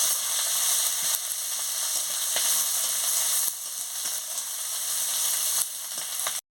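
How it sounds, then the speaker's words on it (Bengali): Garlic paste sizzles and crackles steadily in hot oil in a pan while being stirred, a dense close frying hiss with occasional scrapes, for a vegetable chorchori with ridge gourd, cucumber and potato. "রসুন বাটা দিয়ে দিচ্ছি, দিয়ে ভালো করে নাড়িয়ে নিচ্ছি।"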